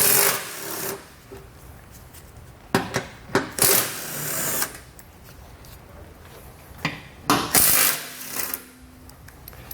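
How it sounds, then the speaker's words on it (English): Bolts on the skid plate of a 2020 Jeep Cherokee being worked loose with a 13mm socket, brief bursts of rapid ratcheting and metallic clicks separated by pauses, close and fairly loud with no talk. "we're going to grab a 13mm socket, and we're going to pull all of these bolts out"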